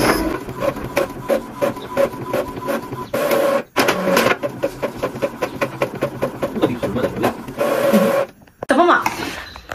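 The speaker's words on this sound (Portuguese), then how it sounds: "agora eu vou imprimir a que fez 32 acessórios" A printer runs through a long batch of labels for an order of 32 accessories, its mechanism whirring and clicking in steady repeated passes with brief pauses, close and fairly loud throughout.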